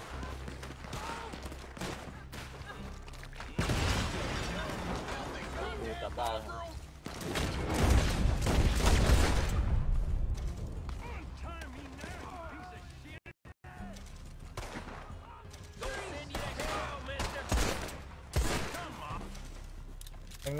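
New Year fireworks go off outdoors in rapid bursts of popping and crackling bangs, loud volleys swelling and fading over about twenty seconds while people talk and shout nearby.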